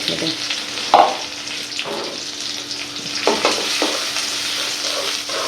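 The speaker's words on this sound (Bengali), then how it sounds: "তা একটু ভালো করে ভাজা ভাজা করে নিই লবণ দিয়ে" Large prawns fry with ginger-garlic paste in a pan, a steady close sizzle broken by a few sharp utensil knocks and scraping stirs, with no talking.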